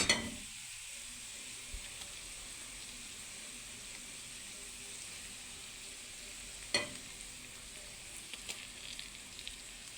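Marinated pomfret fish frying in a pan gives a soft, steady sizzle and hiss, with a brief louder crackle at the start and another a few seconds later.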